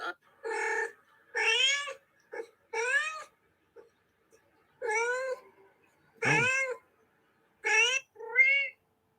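A pet cat meows repeatedly in short, clear cries with pauses between them, close and fairly loud, with one lower, drawn-out yowl near the middle and no talking over it.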